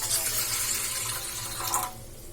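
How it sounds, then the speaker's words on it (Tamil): Water poured from a tap into a pot on a kitchen stove while preparing a snack: a steady, close splashing stream for about two seconds that cuts off abruptly, leaving quiet. "இதுல கொஞ்சமா தண்ணி ஊத்திக்கலாம்."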